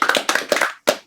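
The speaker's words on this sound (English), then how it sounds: "Let's give them another round of applause." A small audience at a poetry reading gives a short round of applause: a few sparse, separate bursts of hand claps, close and dry, stopping briefly before one last clap.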